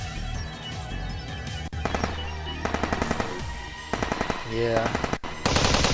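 Automatic weapons firing short, sharp bursts in a Steins;Gate 0 firefight, several rapid clusters of shots over a music-laden backdrop, with a brief spoken word.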